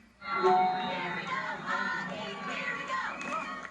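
A football crowd of fans at a college game cheers and screams together in a loud, sustained roar, with many high voices shouting over each other throughout.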